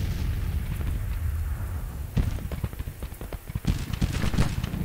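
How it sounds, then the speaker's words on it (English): Artillery fire in the Civil War strategy game Grand Tactician, with about fifteen guns, sounds as a rumbling wash of distant booms and cracks that grows denser and sharper toward the end. "Our artillery out here putting some fire in on them."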